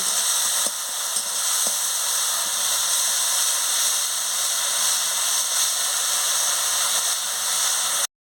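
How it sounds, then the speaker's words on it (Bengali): Tilapia fish curry with chili powder and a splash of water sizzles steadily in a pan on the stove, a continuous close hiss with no break and no voices. "একটু জলটা দিয়ে দিচ্ছি আমি কষিয়ে নিচ্ছি"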